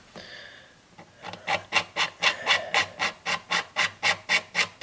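Light, rhythmic scraping across the wooden top of a Martin guitar, a steady series of short rasping strokes close up, with no talking.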